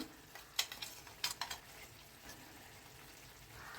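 Spice mix being stirred into a potato dish in a pan, with a few quick scraping clinks of a spoon early on, then a faint, steady background hiss.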